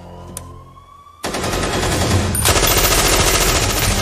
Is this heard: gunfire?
yes